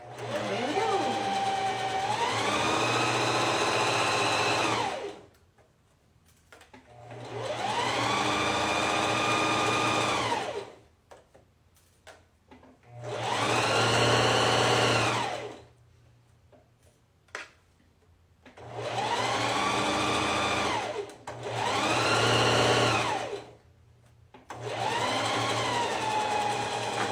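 A sewing machine stitching a construction seam at a short stitch length runs in five or six steady whirring bursts of several seconds each, with quiet pauses between them.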